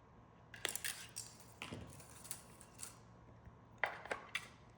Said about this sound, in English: So I'm going to snip it right about there.